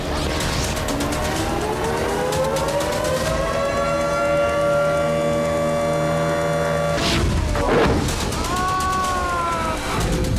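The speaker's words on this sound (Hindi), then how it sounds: "खतरे का सायरन बज रहा था" A loud wailing air raid siren in Ukraine during a drone attack holds a long rising and steady tone, then cuts off, followed by crashing noises and the siren starting to rise again.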